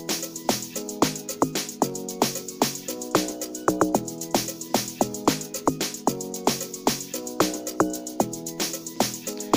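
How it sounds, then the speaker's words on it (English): Log drums programmed in FL Studio Mobile playing over a full amapiano-style beat, a steady loop of punchy percussive hits with woody pitched tones repeating in a tight rhythm throughout, loud and continuous with no talk. "let me quickly play the log drums with the whole beat for you guys so that you guys can hear what I actually did here"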